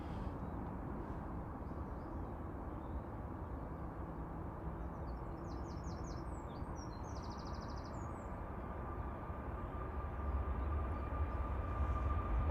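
A Ryanair Boeing 737 MAX 8, registration EI-IJT, bound for Shannon from Manchester Airport gives a continuous rumbling jet roar that swells slightly near the end, with faint chirps above it.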